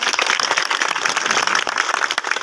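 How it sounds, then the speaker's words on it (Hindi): Dense, continuous applause from an audience at a political rally in Masti Khel, steady and fairly loud throughout with no pauses. "इनके लिए एक भरपूर ज़ोरदार तालियाँ"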